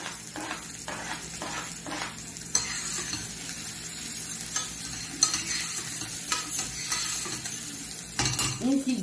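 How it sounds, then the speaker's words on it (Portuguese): Onion and then garlic sauté in a pan for a creamy polenta with eggplant sauce, a steady close sizzle broken by occasional scrapes and stirring clatter, with no voices. "Ó, refogo a cebola."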